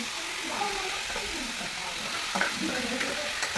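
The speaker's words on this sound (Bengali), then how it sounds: "আলু ভাজা হচ্ছে" Potatoes fry in a home kitchen pan with a steady, close hiss and sizzle, soft but constant, with a few faint clinks and muffled background sounds mixed in.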